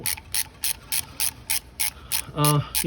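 Ratchet clicking while tightening bolts on a 2002 Ford Focus engine: a steady rhythm of about ten sharp, close ratcheting bursts, with a brief tonal squeak near the end.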